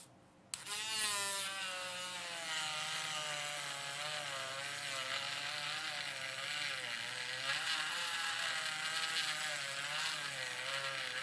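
An Ohuhu battery-operated electric eraser kicks on with a click and whirs steadily at close range while sanding, its high buzzing motor tone wavering slightly under load.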